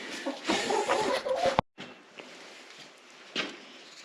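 Chickens cluck and murmur close by in short bursts, with a pause in the middle and a louder squawk near the end, and a few rustling steps in between.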